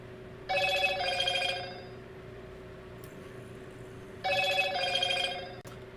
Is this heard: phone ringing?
yes